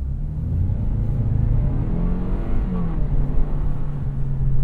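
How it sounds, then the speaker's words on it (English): A 2017 Lexus GS 200t engine revs steadily during an attempted burnout with traction electronics cutting power, a loud sustained low rumble heard from inside the car, nearly unchanging throughout. "it rotated the rear tires about one turn before the electronics completely cut down the power and said, no burnout for you"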